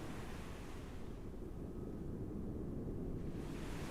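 Ocean waves rush and roar in a steady broadband wash, with wind noise over the microphone and no distinct breaking crashes, continuous and fairly distant throughout.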